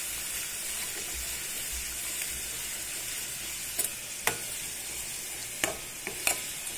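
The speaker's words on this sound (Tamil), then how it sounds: "இந்த பூக்களை நான் போட்டுட்டேன் ஒரு சிறு கரண்டியால ஒரு இரண்டு முறை இந்த மாதிரி கலந்துக்கோங்க" Nandiyavattai flowers fry in castor oil over low heat with a soft, steady sizzle, broken by a few sharp clicks of a small spoon stirring; no one speaks.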